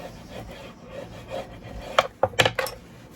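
Paper being burnished down by hand onto a handmade mini album, giving soft rubbing strokes followed by a few brisk, close scraping rubs.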